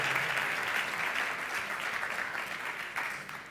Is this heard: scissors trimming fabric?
no